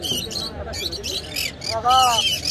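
A talking myna bird at a busy village market gives short squawks and whistling calls over a background of crowd babble, with a person's voice nearby.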